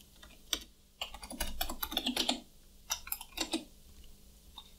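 Bursts of rapid keystrokes clatter on a computer keyboard as a username and password are typed, close and crisp, in several quick runs separated by short pauses.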